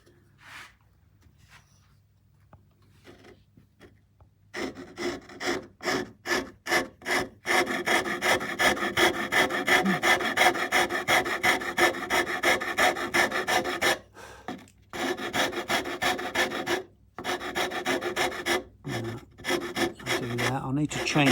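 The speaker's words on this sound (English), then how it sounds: "a rasp, a little 13 grain Model Maker's rasp, which is a wonderful tool and perfect for this" Small 13-grain model maker's rasp filing a wooden guitar neck during shaping, heard alone and close as rhythmic rubbing strokes, scattered at first, then a fast steady run broken by a few short pauses.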